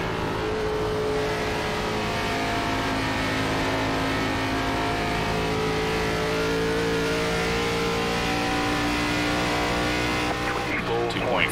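An ARCA stock car races at Dover in the iRacing simulator, its engine a loud, steady high-pitched drone held at speed throughout, with a voice talking over it.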